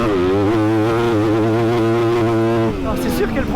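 A tuned Yamaha 250 YZF motocross bike revs hard close by, its engine pitch rising and wavering for nearly three seconds before dropping off abruptly, with a voice talking over it.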